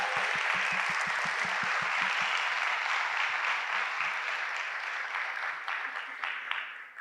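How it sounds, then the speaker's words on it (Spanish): An audience at a literary talk gives a long, dense round of applause, steady and full at first with a few low thumps, then gradually thinning toward the end. "Un aplauso, por favor."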